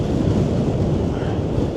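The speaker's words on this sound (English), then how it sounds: "So when the waves smash against the steps." Storm waves crash against curved sea wall steps at high tide in Blackpool, a continuous heavy roar of surf and wind buffeting with no clear separate impacts.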